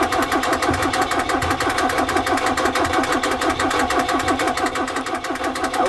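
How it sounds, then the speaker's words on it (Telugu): Truck engine turning over and running with a fast, steady chugging beat, loud and close, with no voices over it. "చూడండి కిక్కర్ కొడుతున్నాను, మీకు కనిపించకపోవచ్చు"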